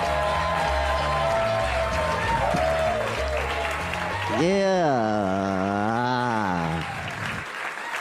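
A comedy club audience in New York City claps to welcome a stand-up comedian to the stage, with sustained applause under a loud, tonal voice or music in the middle and a brief spoken word.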